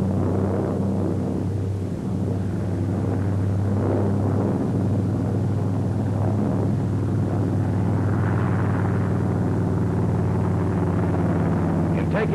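Radial piston engine of a TBF Avenger torpedo bomber droning loud and steady throughout, a constant heavy rumble with no pause.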